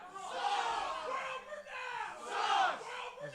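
A wrestling crowd chants and roars in swelling waves, two loud surges of massed voices with a dip between, heard from a distance as a broad arena din.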